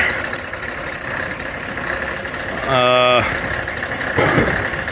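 Big Scania recovery truck reversing during a heavy 26-ton V8 engine salvage, its engine droning steadily with a brief harmonic whine and a later low rumble.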